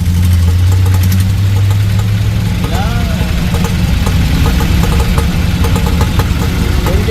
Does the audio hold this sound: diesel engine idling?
yes